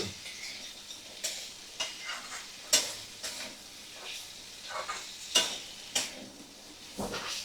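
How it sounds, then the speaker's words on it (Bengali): Chickpeas and chicken sautéing with spices in a pan on a medium flame, with a soft steady sizzle broken by repeated stirring scrapes and clinks, close and moderately quiet. "চিকেন সমেত কাবলি ছোলা আমি ভালো করে কষিয়ে নেব"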